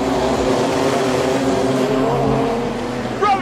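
Wingless sprint cars racing on the Carina Speedway dirt oval, engines roaring loud and continuous as the field runs the final laps, with a commentator talking over the noise.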